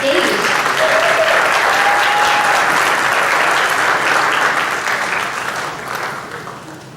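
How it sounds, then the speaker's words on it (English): A seated audience at a live final debate event gives a loud, sustained round of applause for two speakers leaving the stage, dense and even before tapering off near the end. "Let's give one more round of applause to Mark and Rudy as they exit the stage."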